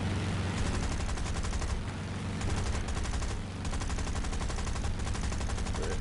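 The Boomerang Mk II weapon fires in a video game as sustained rapid automatic bursts, loud and dense, with two brief pauses between volleys.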